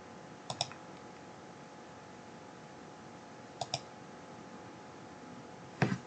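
A computer mouse clicks while drawing in Revit 2023, sharp double clicks heard in three brief close bursts spaced a few seconds apart over quiet room tone.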